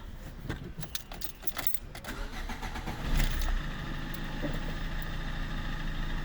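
A car's ignition key jangles in the lock, then the starter cranks and the engine catches about three seconds in and settles into a steady idle up close, with no one talking.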